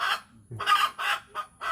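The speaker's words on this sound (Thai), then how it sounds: "ไก่ไข่" Laying hens cluck close by in a quick series of five short, nasal bursts, with no other sounds around them.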